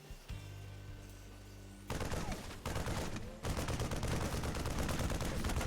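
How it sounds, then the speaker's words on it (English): StarCraft II Marine firing at a Zerg Overlord: a steady hum gives way to dense, continuous rapid-fire gunfire that comes in loud bursts with brief breaks, fairly close and with no talk over it. "The Marine is going to be shooting away on that. Shooting away on that poor Overlord."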